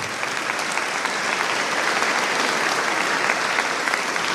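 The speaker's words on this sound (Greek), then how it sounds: "Η κυρία Πέτρου όμως της αξίζει ένα ακόμη χειροκρότημα γι' αυτό." Sustained applause from a large crowd, steady and dense clapping filling the whole clip without letting up.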